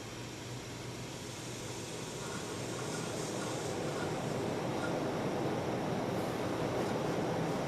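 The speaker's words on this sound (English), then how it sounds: "There is a little bit of a hum, but that's just due to the variable speed control." A 42-inch Casablanca Zephyr K63 ceiling fan with short blades and a variable speed control runs from low up to high, giving a steady broadband whoosh of moving air with a faint hum that grows gradually louder.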